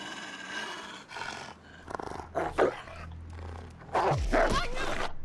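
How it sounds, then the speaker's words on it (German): Low, rumbling dog growls, apparently in reaction to a survival game set in a cold wilderness, come in several short bursts and swell near the end, with a person talking over them. "Ich glaube, die Lucy hört das Spiel, die knurrt mit"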